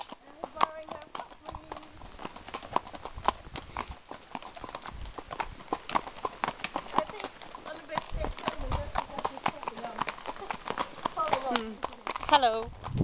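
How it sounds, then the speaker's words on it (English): Hooves of a horse clip-clop steadily on a forest ride during a hack, an even walking rhythm close by and continuous, with voices talking over it throughout. "But she's a lovely horse."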